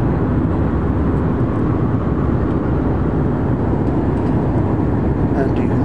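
Inside the cabin of an IndiGo passenger airliner in flight, a loud, steady broadband roar of engine and air noise drones without break throughout.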